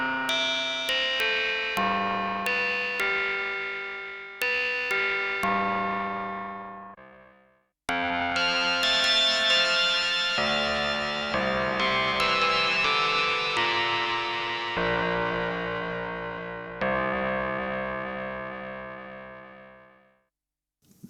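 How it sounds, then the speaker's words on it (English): Prophet 5 Rev 4 synthesizer playing a polymod patch with filter FM and pulse-width FM, bright metallic plucked chords struck in a loose rhythm, each decaying, then a longer sustained passage, with no talk. "This is one of my favorite sounds, using filter FM and FM of the pulse width."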